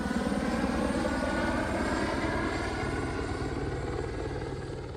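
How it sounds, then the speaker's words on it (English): A helicopter flies close by and sets down in a field just beyond a line of trees, its steady rotor thrum and engine roar holding loud throughout and easing slightly toward the end. "That was a bit strange with that helicopter. It landed in the field just the other side of the trees here."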